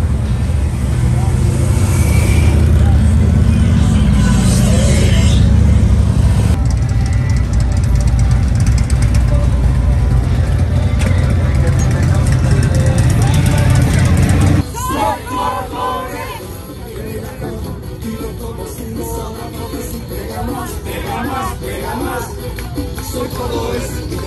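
Harley-Davidson motorcycles at the Sturgis rally: loud, continuous engine rumble and crowd din, dropping abruptly partway through to a quieter mix of engines and voices, with people talking.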